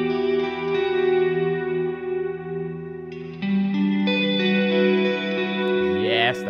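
Sustained chords ring out through a reverb plugin at its default settings, giving a wide, washy tail with chorus-like shimmer and echo, close and fairly quiet with no talking.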